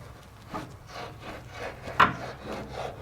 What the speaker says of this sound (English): I'm going to go ahead and just slide this down underneath the aluminum on the adhesive, and that's going to go ahead and just cut it